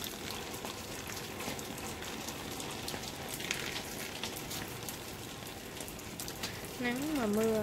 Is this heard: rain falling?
yes